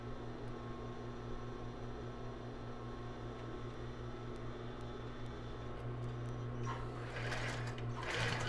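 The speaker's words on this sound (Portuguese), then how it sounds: "Agora eu vou costurar reto aqui também." A sewing machine runs a straight stitch on a plus-size bra with raw elastic, a steady close motor hum with rapid needle pulses for several seconds before fabric rustles and handling noise at the end.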